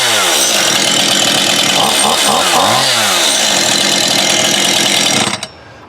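A Stihl MS171 chainsaw runs close and loud, its engine revving up and down in a steady roar before cutting back to a quieter idle near the end.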